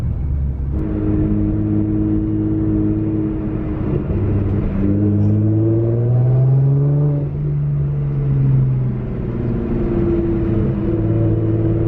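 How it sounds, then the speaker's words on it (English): A Nissan GT-R with turbos and straight-pipe exhaust driving on the road, a steady loud engine drone that rises and falls in pitch as it accelerates and shifts, with turbo whir over the rumble. "I love how these turbo sounds are. The straight pipes just make it sounds perfect."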